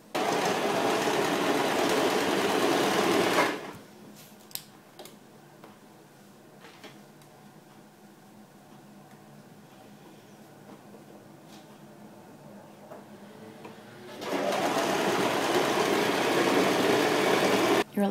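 A sewing machine stitches elastic onto the top edge of a simple long summer dress, sewing steadily in a loud continuous run at the start and again at the end, with a quieter stretch between.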